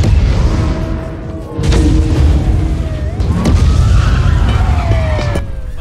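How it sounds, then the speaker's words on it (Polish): Small bomb blast in the Need For Speed Payback racing game, a deep boom rolling over a steady in-game engine and music bed, with sweeping tonal effects and a few sharp bursts layered in. "Coś tak małego zrobiło taki wybuch?"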